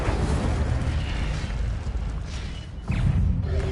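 Incendio fire spell from Hogwarts Legacy: a continuous roaring, rumbling blast of flame with a dense low whoosh, ending in a sharper burst.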